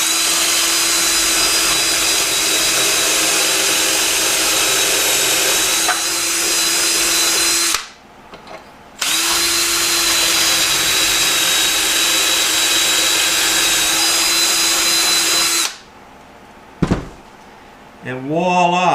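A power drill bores holes into a rustic barnwood cabinet door in two long, loud, steady whining runs, each ending abruptly with a short pause between them.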